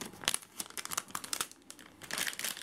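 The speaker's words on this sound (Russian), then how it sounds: "Такой пакетик положили хороший." A plastic packaging bag from a parcel of brake pads crinkles and rustles close to the listener in quick irregular bursts, with no talking.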